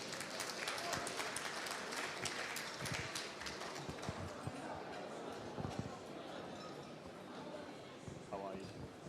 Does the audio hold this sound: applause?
yes